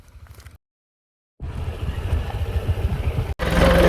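A running tractor engine rumbles low and steady nearby on a farm, cutting out for a moment of silence before resuming, with no talking.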